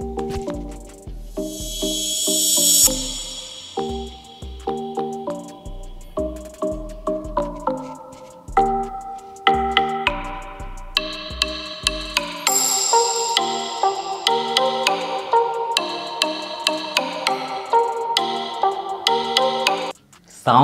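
A test track plays through the dual stereo speakers of an Infinix Hot 11s phone, a steady run of music with repeated tonal notes and percussive hits that fills the whole stretch and cuts off at the end.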